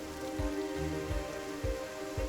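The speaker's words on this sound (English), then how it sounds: "now I might as well just catch the rain on my canvas and see what happens" Steady rain falls outdoors, pattering continuously on surfaces with a dense, even hiss, while soft low thumps recur in the background.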